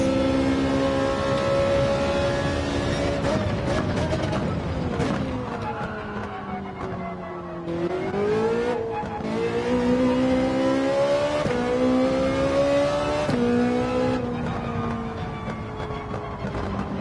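A race car engine in Gran Turismo 7 drones steadily, its pitch dropping in a couple of downshifts and easing while coasting, continuous and fairly loud.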